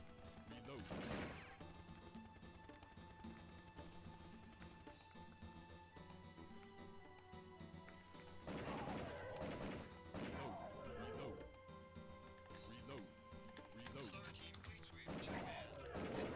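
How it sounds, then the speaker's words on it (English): Rapid bursts of gunfire from a shooting video game crack out in several loud volleys, with a reload pause between them and one more shot after, layered over constant game background sound. "I'm shooting off screen. It like reloads and then it shoots one more at me."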